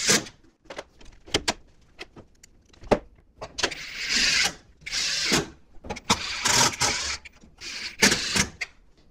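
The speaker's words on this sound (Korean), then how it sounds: "도어부를 잡아주는 상단 나사들을 브라켓에 조립해 줍니다" Screws driven into the upper door bracket of an LG combination washer-dryer drum machine during reassembly, heard as bursts of power-driver whirring and metallic clicks and rattles, close and loud, with pauses between fastenings.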